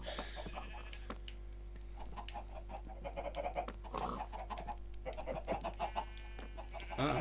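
Baby chickens in the Minecraft video game give soft, repeated clucks and chirps, faint and scattered over a low steady hum, with occasional game sounds mixed in.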